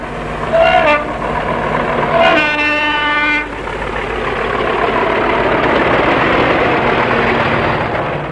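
A British Rail Class 40 diesel locomotive at St Andrews, Birmingham, sounds two loud, close two-tone horn blasts over its engine, then the heavy diesel rumble and rolling train noise carry on steadily.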